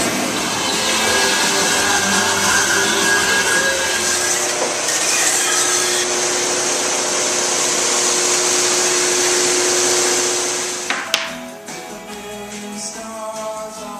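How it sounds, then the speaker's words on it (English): Kerosene burner space heater roaring steadily as it blows heat into a homemade wood kiln, a loud continuous broadband rush that drops away near the end, leaving a quieter hum with a few clunks. "So that's what you're hearing is the kerosene burner blowing heat through."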